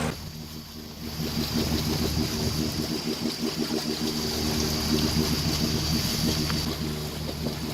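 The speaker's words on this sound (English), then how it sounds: "we're a little bit tired of listening to the motor" A sailboat's inboard motor chugs steadily out on the harbor water near Mahone Bay, Nova Scotia, a droning rhythmic engine hum that starts about a second in and continues with faint water wash beneath.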